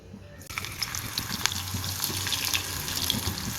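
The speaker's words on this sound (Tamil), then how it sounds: "இப்போ நம்ம கழுவி வச்சுருக்க கருவாடை ஒன்று ஒன்றா சேர்த்து இதை லைட்டாக பொறிச்சு எடுத்துக்கலாம்" Washed dried fish dropped into hot oil in a pan, starting after a brief quiet moment and settling into a constant close bubbling sizzle.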